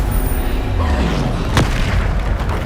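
A Bombarda spell explosion in the video game Hogwarts Legacy, a loud low boom with a sharp burst near the middle over a dense, rumbling game soundscape.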